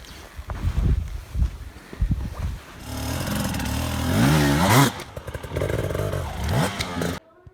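An enduro motorcycle engine revs in bursts, then roars up in pitch with clattering and scraping as it climbs over an obstacle, ending abruptly.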